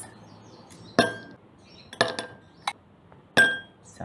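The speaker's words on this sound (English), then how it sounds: "Give it a good shake," Ice and glass clinking while a tamarind mojito with Sprite is shaken, four sharp separate knocks and rattles spaced about a second apart over a quiet background.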